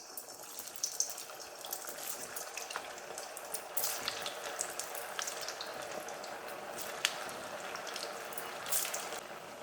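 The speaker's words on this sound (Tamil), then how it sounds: "இப்போ எண்ணெய் காஞ்சி போச்சு. கடையில் இருக்க எண்ணெய் இதை பொரிச்சு எடுக்கலாம்." Potato cutlets frying in hot oil give a steady, moderately quiet sizzle and crackle with scattered sharper pops, close by and without talk.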